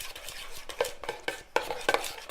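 Floam slime is stirred after a few squirts of contact lens solution, giving close, wet squelching and scraping strokes in an uneven rhythm against a container, with no talking.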